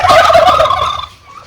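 A loud, close turkey gobble, a rapid warbling burst that trails off into quieter clucks near the end.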